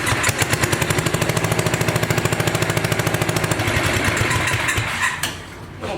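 A six-wheeler ATV engine idles high, close and loud, with a rapid, even chugging pulse. After about four seconds the beat blurs into a rougher rumble, then dips briefly near the end.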